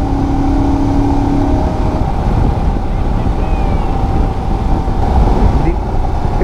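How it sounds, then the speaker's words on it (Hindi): A Royal Enfield Himalayan 450 motorcycle on an early-morning road ride, its engine a steady low rumble buried under loud, continuous wind rush across the microphone. "क्या आवाज़ निकली रे गाड़ी की।"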